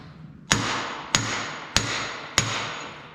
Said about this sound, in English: Just lightly turn the shaft and give it a few light whacks.